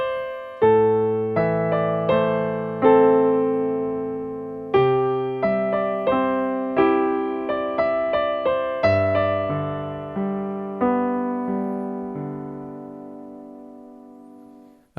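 Solo piano plays a piece, clear struck chords and melody notes ringing and decaying one after another at a moderate pace, with no talking over them.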